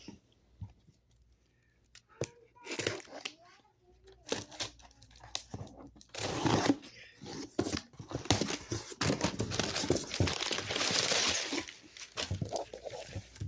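Paper packing material crinkles and rustles while a box of new Marvel and DC comics is unpacked, with irregular close crackling bursts that grow busier and louder partway through.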